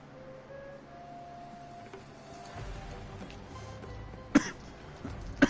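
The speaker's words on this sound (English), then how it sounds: "Elbow cough." A person coughs into the elbow, two short sharp coughs near the end over a low engine hum and faint mechanical whine of a tank game.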